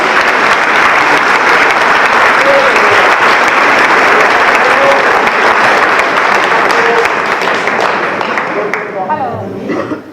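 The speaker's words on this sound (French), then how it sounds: "Moi, j'invite à applaudir Michel" Sustained loud applause from an audience at a French town public meeting, dense even clapping that carries on for several seconds and thins out near the end, with faint voices underneath.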